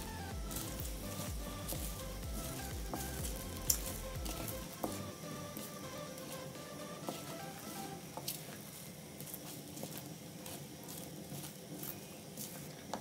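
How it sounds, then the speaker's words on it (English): Pumpkin seeds roasting in a pan while being stirred and turned, giving a steady low sizzle and soft patter with scattered scraping clicks, fairly quiet and close throughout. "when you just put them on fire and start turning, they will stick at the bottom of the pan"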